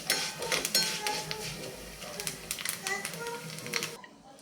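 Rice is fried in ghee in a pan for sweet rice kheer, with a soft sizzle and a clatter of a spoon scraping and clinking against the pan, closely miked, until an abrupt stop near the end.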